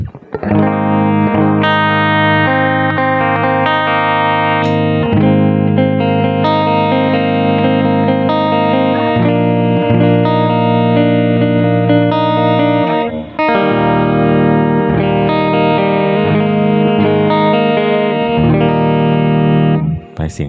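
A heavily distorted electric guitar on the rear pickup playing sustained chords and riffs, thick and bright with a biting edge, loud and continuous with no voices.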